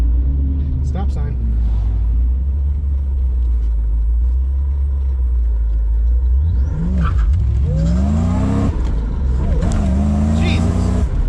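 A supercharged Toyota Supra engine revs and accelerates hard with loud, rising engine pitch and deep rumble, the engine note climbing in surges near the end while a person speaks over it.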